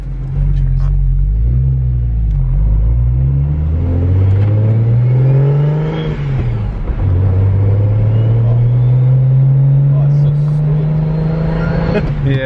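A BMW with a single-turbo N54 engine and aftermarket exhaust drones loudly and steadily while driving, rising and falling through revs with close cabin rumble, while people talk over it.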